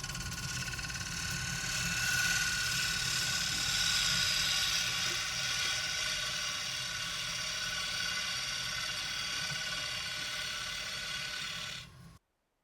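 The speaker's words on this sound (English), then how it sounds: "Going to get to hollowing, and again, the plan is to do the exact same thing on the inside of the bowl" A woodturning lathe spins a bowl of resin-filled orange agate wood while its inside is hollowed, making a continuous close whir and scraping hiss that cuts off abruptly at the end.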